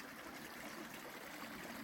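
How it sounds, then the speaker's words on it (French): A small river stream on a hiking trail flows with a steady soft rushing and trickling wash, continuous and fairly faint, with no voices over it. "Rien que le bruit de l'eau, je trouve ça très reposant"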